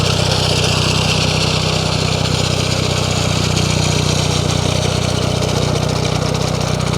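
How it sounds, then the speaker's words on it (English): A tractor-driven mower on a Portugal farm runs its cutting blades through grass along a wall, producing a steady, loud engine drone with continuous mid-range whir and no pauses. "the tractor is actually making these little cutting blades work"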